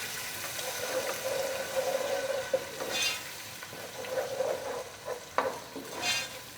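Eggs being stirred and crumbled in a hot pan with lightly browned garlic, a steady close sizzle with scraping stir strokes and occasional sharper clinks of the spatula against the pan.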